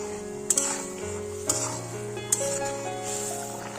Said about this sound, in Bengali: মশলাটা দিয়ে দেওয়ার পরে আমরা নাড়াচাড়া করে নেবো কিছুক্ষণ